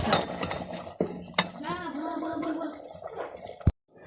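Cooked chana dal is served onto a plate, with metal utensils and dishes clinking and scraping in a home kitchen, a few sharp knocks standing out among softer wet sloshing sounds.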